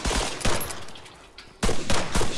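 Gunfire in the ARMA 3 video game, played with a dynamic zombie sandbox mod: two rapid volleys of loud shots, separated by a short quieter gap.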